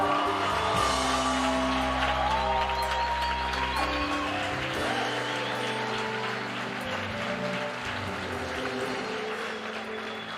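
A church congregation applauds steadily, with dense clapping that runs the whole length, slowly tapering, over low sustained organ or keyboard tones and occasional shouts.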